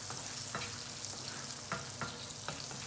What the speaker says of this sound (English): Then we're gonna add into this cinnamon, green cardamom and bay leaf, and let's just get sauteed for a minute.